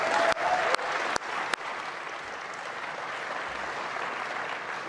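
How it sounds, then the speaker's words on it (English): Audience applause at a New Zealand youth film festival, a steady wash of clapping from a crowd that starts loud and holds at an even level for several seconds, with a few sharp bursts early on. "so let's give them a massive round of applause."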